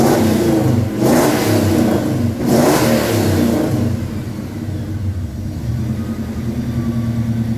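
A Dodge V8 with FiTech fuel injection revs hard twice in quick bursts, then settles into a loud, rumbling idle with a lumpy low throb, close by.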